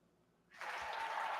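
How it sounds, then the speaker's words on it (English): Applause swells in after half a second of near silence on a trucker's live stream, then holds as a steady, fairly faint wash of clapping. "So let's give him a round of applause."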